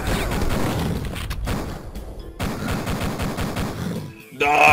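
Shotgun blasts and chaotic gunfire in the video game Duke Nukem 3D, a loud, dense barrage of booming shots with short gaps, ending in a sudden sharp burst.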